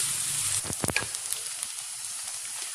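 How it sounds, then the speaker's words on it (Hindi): Onions fry in hot oil with a bright, steady sizzle, broken by a few short clatters of a spoon or spatula early on, heard up close with no talking. "इसमें मैं ऐड कर रही हूँ ऑनियन। हल्का से इसको मैं फ्राई करूँगी"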